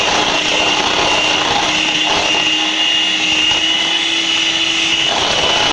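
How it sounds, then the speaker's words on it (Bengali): An electric beater whirs loudly and steadily as it beats a custard and milk mixture, a constant motor whine with a slight churning texture and no talk. "তো বাকি কাস্টার্ড আর দুধের মিশ্রণটা আমি দিয়ে ভালোভাবে বিট করে নেব।"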